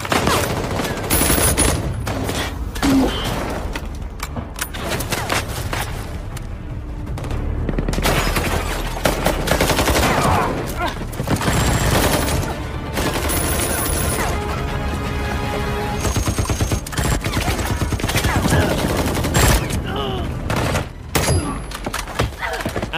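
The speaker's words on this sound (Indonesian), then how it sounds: "Kemudian aksi tembak-tembakan pun terjadi." Dense, chaotic bursts of gunfire ring out continuously in an action film, with loud crashes and impacts layered over a rumbling action-scene soundtrack.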